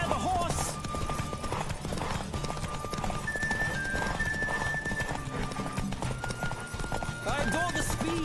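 Rapid galloping hoofbeats with a horse neighing during a horse race in The Witcher 3: Wild Hunt, dense and continuous, mixed with game music and effects.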